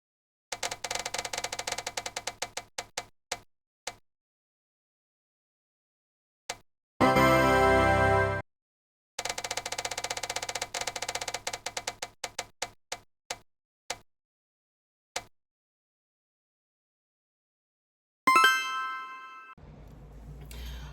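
A crafting prize wheel clicks in rapid bursts of ticks, pauses, spins again with a loud clattering whir and slowing clicks, then ends with a ringing ding-like chime.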